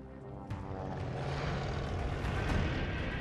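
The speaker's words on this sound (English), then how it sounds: "That's a plane!" A wartime aircraft in Call of Duty: Vanguard, set at Tobruk, roars overhead with a dense, rising propeller-engine drone that builds loud and close over a few seconds.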